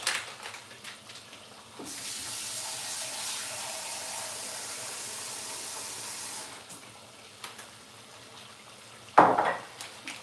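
Tap water runs into a sink to soak dried shrimp for a lobster dish, a steady close hiss for several seconds, bracketed by faint kitchen clatter and a sharper knock near the end.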